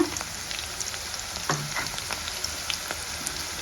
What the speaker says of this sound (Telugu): ఆనియన్స్ అయితే వేగేలా వేగే వరకు ఇట్లా వెయిట్ చేద్దాము